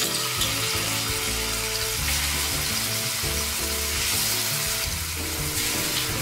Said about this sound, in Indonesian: Goreng tahu yang sudah dipotong tadi.